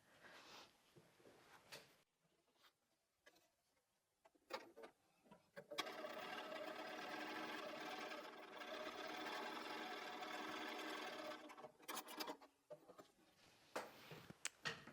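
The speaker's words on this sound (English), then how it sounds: "Now I'm going to flip it and sew it from that side" A sewing machine stitches a curvy log cabin quilt block, a steady fast mechanical whir running for several seconds after quiet handling clicks and fabric rustles, with brief taps at the end.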